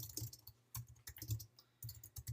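Quiet typing on a computer keyboard: short bursts of soft clicking keystrokes with brief pauses between them, close and alone.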